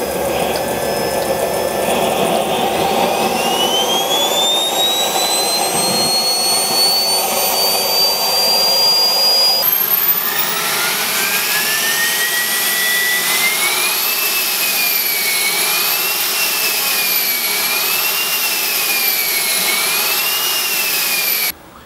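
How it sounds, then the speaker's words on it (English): A Wren 44 small two-shaft model jet turbine engine runs loud and steady with a piercing rising whine, then shifts to a wavering high-pitched scream that holds until it cuts off abruptly, with no voices over it. "I'd like to point to our Wren 44 engine."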